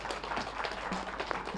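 An audience at a panel discussion gives a round of applause. It is a faint, diffuse patter of many hands that runs briefly and steadily, with a few soft vocal sounds mixed in.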